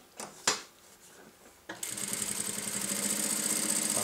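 A JACK JK 9100 industrial sewing machine stitching plastic tarpaulin: a few light clicks come first, then the motor starts and runs in a steady, close, rapid whirring drone to the end.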